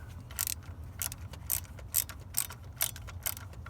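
A ratchet backs out 8 mm bolts on the thermostat housing of a 2000 Ford 4.6 V8, producing rapid metallic clicking bursts in a regular rhythm of about two per second, close and clear with no speech.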